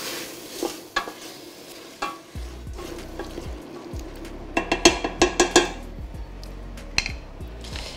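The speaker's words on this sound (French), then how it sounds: "On va bien mélanger." Tomatoes stirred into cooked onions in a pan, with bursts of sizzling, scraping spoon strokes and a quick run of clinking taps against the pan partway through, close by with no voices.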